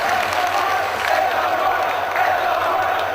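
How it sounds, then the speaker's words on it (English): Wrestling crowd at an FWA British Uprising show in 2002 cheers and applauds steadily, a dense roar of voices and clapping filling the hall without a break. "you can hear these fans applauding these two men's brave"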